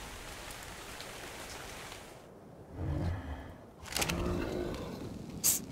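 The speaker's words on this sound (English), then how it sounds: "Stop raining." Steady rain hiss falls in ARK Survival Evolved, a soft even wash of drops that briefly thins out before returning with a few breathy sounds over it.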